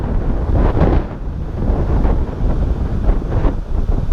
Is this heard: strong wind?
yes